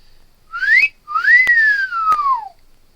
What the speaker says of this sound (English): I gave a very loud whistle